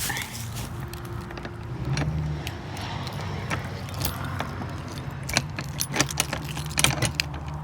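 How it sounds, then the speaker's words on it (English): A set of keys drops and jangles close by in a steady, busy metallic rattle of rapid clinks, with faint vehicle background and no talking. "And I dropped the keys."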